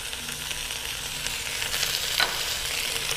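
Onions and seasoning sizzle loudly in a pan beside a roast. The sizzle is steady and close throughout and swells briefly partway through.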